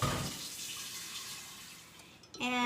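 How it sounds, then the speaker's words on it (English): Water pours from a pitcher into an Instant Pot in a brief gurgling splash. A voice speaks at the very start and again at the end. "And then I'm going to add probably a third and another pitcher of water."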